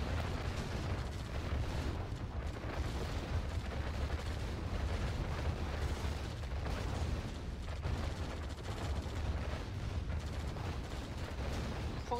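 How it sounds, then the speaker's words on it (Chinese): A nuclear missile strike detonates in a Red Alert real-time strategy match, a dense, continuous roaring rumble that fills the whole stretch at a steady level. "一发核弹"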